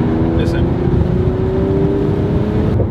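Steady engine and exhaust drone from a 2019 Mercedes-AMG CLS 53 with a turbocharged 3.0-litre inline-six and EQ Boost, heard from inside with the window down, a continuous moderate rumble under road noise.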